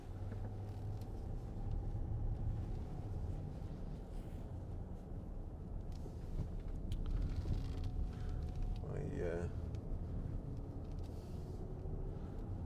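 Low, steady engine and road rumble comes from inside a 2015 Range Rover 4.4 SD V8 Autobiography automatic 4WD as it drives and slows for a corner, with a voice speaking over the cabin drone.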